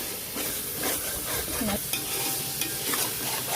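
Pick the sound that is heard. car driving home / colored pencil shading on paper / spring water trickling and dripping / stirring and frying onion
stirring and frying onion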